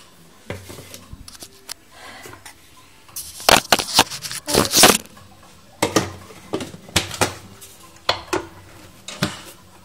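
A spoon mixes a baby breakfast of coconut milk, banana, chiku and pumpkin with cinnamon powder in a bowl, making quiet scraping followed by bursts of clinking and clattering against the dish.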